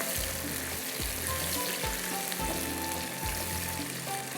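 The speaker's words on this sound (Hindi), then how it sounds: "तो यहाँ पर करते हैं प्याज को हम अच्छी तरह से ब्राउन" Onions frying in oil in a pan while browning for a kalonji baingan curry, a steady close sizzle with soft periodic low thumps of stirring and a faint whine in the background.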